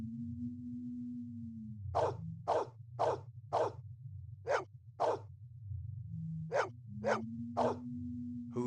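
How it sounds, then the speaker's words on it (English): A dog barks in bursts inside the Blade Runner Enhanced Edition video game, two quick sets of four yelps then another set of three, heard clearly over a steady low electronic hum. "Who's the best dog in the whole world?"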